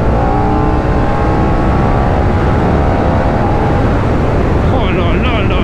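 Paika motorcycle riding, a steady loud engine drone with wind rush and rising harmonic whine as it accelerates, continuous throughout, with a high whistling tone near the end.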